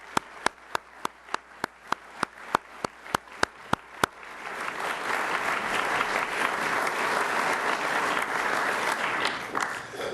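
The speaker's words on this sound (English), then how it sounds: "Let's give them a big round of applause." An audience at the USS Wichita ship naming ceremony applauds servicemen and women, starting with a dozen sharp, evenly spaced claps before swelling into broad, sustained crowd applause.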